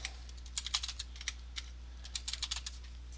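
Keys on a desktop computer keyboard tapped in short irregular bursts while entering a password, faint and close with a low steady hum beneath.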